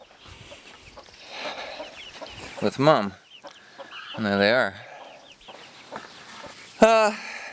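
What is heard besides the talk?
chickens clucking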